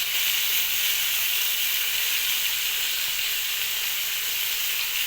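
Chicken liver frying in a pan with ginger, garlic and chili powder, giving a steady, even sizzle that stays constant and close throughout with no talking.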